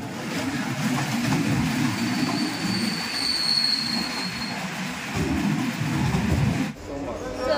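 A train rumbles at Kharagpur railway station with a low, continuous roll and a thin, sustained wheel squeal, loud and close, while people talk nearby until the noise drops away abruptly near the end.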